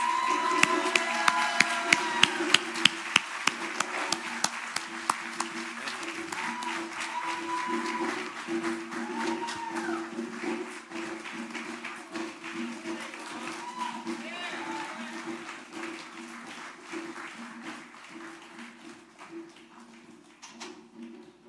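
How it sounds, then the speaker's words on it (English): Audience applause at a community Malcolm X Day event after special recognition certificates are presented, a steady wash of many hands clapping for about twenty seconds, loudest at the start and gradually thinning, with a few sharper individual claps and murmuring voices underneath. "Please give them a round of applause."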